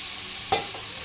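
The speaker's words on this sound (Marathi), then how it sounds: "मुंडी टाकल्यानंतर हलवून घेणार." Goat head stirred into masala in a pan, a low frying sizzle with one sharp scraping clack of the spoon against the pan, close and alone.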